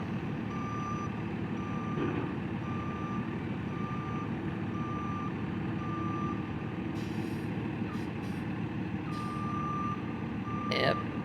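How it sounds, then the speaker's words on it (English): A claw truck backs up with steady repeating reversing beeps, spaced evenly over a constant engine rumble and passing traffic, with a brief air-brake hiss near the end. "backing up a little bit more so they can grab some more of that tangle"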